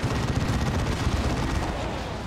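Dreadnought's assault cannon in a video game firing a sustained, dense stream of rapid gunfire, loud and close, with no breaks and no talk.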